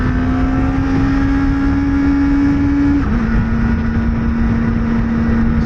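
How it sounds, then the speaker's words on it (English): A Kawasaki Ninja ZX-4RR engine holds a steady high-pitched rev, then drops slightly and settles into another sustained tone, loud and close with no voices. "So you have to really rev this engine until you find that peak torque"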